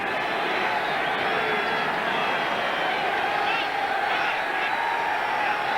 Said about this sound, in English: The crowd now chanting defense for the hometown 49ers on a third down play.